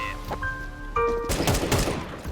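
Rapid automatic gunfire rattles in a Counter-Strike FACEIT match, a dense burst of shots following brief tonal game beeps, fairly close and loud.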